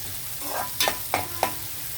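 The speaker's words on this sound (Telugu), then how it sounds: "ఉల్లిపాయలు కొంచెం వేగితే చాలండి, మరీ బాగా వేగిపోక్కర్లేదు." Onions frying in a pan, a steady background sizzle broken by three quick stirring scrapes, close and fairly loud.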